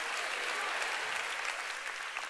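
A church congregation breaks into loud, sustained applause, a dense wash of clapping filling the room throughout.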